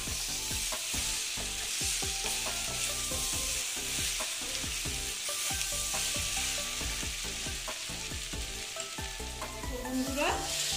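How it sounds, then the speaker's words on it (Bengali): Jackfruit curry, echor kalia, is sautéed in a pan, a bright continuous sizzle cut by a rapid, regular series of spatula scrapes and taps, up close and without speech. "দিয়ে এটাকে আমি ভালো মতন ভালো মতন কষাবো।"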